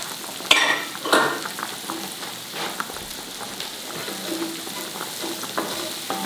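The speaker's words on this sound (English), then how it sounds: "And keep stirring it for a couple of minutes, actually." Six big garlic cloves fry in a skillet for Tuscan chicken while being stirred. A steady, crackling sizzle runs throughout, with a couple of sharper utensil scrapes near the start and no voices.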